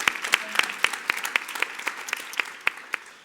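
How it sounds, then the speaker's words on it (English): Applause from an audience after a conference presentation, steady even clapping at moderate distance for a few seconds with no voices over it. "That was the round of applause for your presentation."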